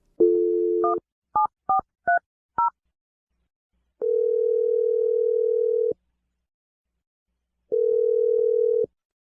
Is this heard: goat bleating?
no